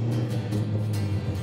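Chevrolet car engine running after a remote start, a steady low idle rumble with slight pulsing, close and continuous.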